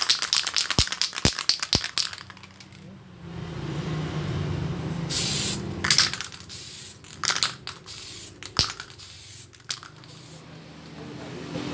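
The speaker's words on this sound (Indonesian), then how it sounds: "semprot clear permukaan yang kita print tadi agar tintanya awet ya" Clear coat sprayed from a can onto a printed PVC card, heard as a steady, close hiss lasting several seconds, with short sharp handling clicks and taps before and after.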